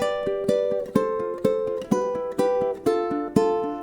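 Plucked ukulele strings pick out a short descending chord fill, with evenly spaced strums and arpeggiated notes in a steady rhythm, played close and alone.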